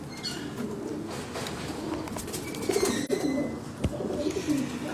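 Pigeons coo softly in the background amid faint ambient noise, with a few brief knocks and rustles.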